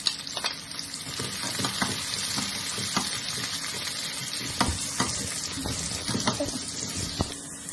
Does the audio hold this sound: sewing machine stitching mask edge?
no